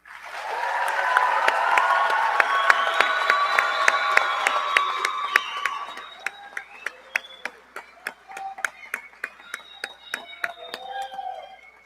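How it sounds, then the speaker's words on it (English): A crowd at a school graduation ceremony applauds the graduating class, a dense wash of many hands clapping and cheering that thins after several seconds into scattered, sharp individual claps tapering off. "Let's give them a round of applause"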